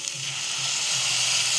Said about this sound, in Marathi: आता इथे पाणी घालणार आपण